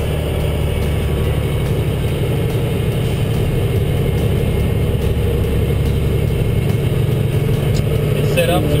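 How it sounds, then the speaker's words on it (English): A Paccar MX13 diesel engine in a Kenworth truck lugs at low revs on a New Zealand road, giving a steady, deep, continuous drone with road and cab noise and no speech over it. "It's set up to really let the engine run down low."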